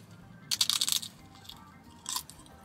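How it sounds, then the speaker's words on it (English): Someone bites into crunchy naan bread from an Indian convenience store, giving a quick burst of crackly crunches and then a second, shorter crunch a moment later, close up with no talking. "I like how the naan is soft in some parts. In other parts, it's like really crunchy."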